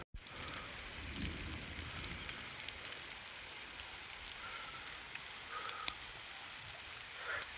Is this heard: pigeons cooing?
no